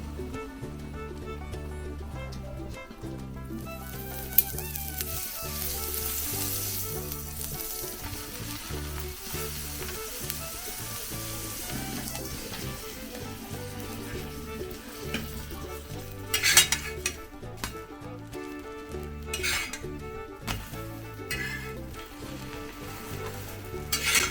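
Buttered pav bread toasts on a hot pan for pav bhaji, with a loud, continuous sizzle throughout. Scraping and metal utensil clinks against the pan come through now and then.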